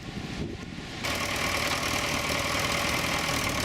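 A steady engine idles throughout, a low rumble that grows louder and fuller after the first second and then holds constant with no voices.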